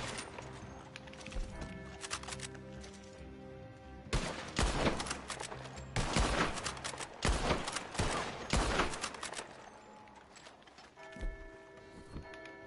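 Video game gunfire from Red Dead Redemption 2 crackles in dense volleys of shots with horse hooves and a whinny mixed in, loudest in bursts between four and nine seconds, over background game music.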